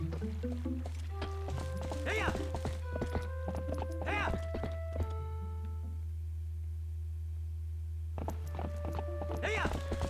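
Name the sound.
horse riding hoofbeats in Zelda: Twilight Princess video game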